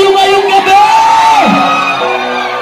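A crowd at a nighttime resort show shouts, whoops and cheers loudly and continuously, with one drawn-out yell rising above the din before fading.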